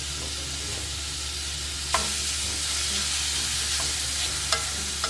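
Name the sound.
meat stir-frying in oil for dan dan noodles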